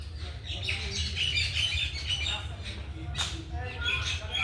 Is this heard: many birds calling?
yes